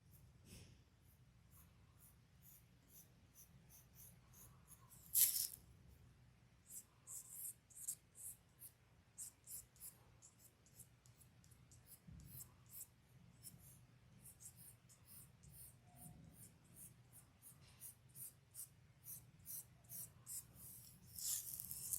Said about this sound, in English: So right now I'm just making my lines a little bit more visible.